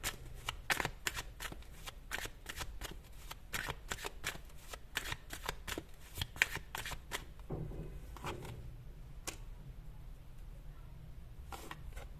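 Tarot cards shuffled by hand in quick, rapid riffles and flutters, close and steady for about seven seconds, then slower, sparser card sounds follow.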